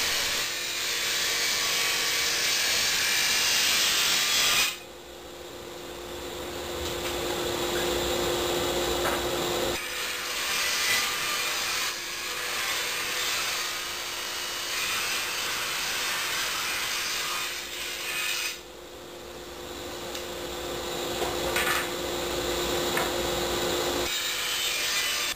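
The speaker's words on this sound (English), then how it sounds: "I'm ripping them on the table saw." A table saw rips a 2x4 into thin wooden slats, making a loud, steady, continuous whine and roar. It runs over several long back-to-back passes, with short dips in between as each cut ends and the next piece starts.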